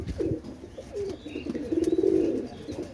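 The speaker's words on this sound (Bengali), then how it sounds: "ক্রিম চোখের কবুতর" Cream-eyed pigeons coo nearby in soft, low, throaty phrases, one rising into a rapid rolling coo, with faint chirps and rustling around them.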